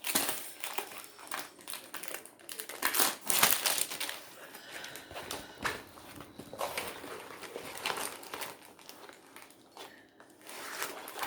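A small slip of paper handled and crumpled indoors, with irregular crinkling and rustling bursts of varying loudness, some sharp and close, scattered over several seconds.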